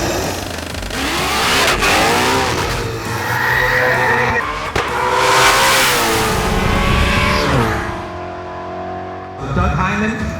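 Ford Mustang race cars, EcoBoost and GT, at an outdoor Mustang car show exhibition race, engines loudly revving and accelerating in repeated rising and falling surges, close by, ending with a sudden cut and a brief restart.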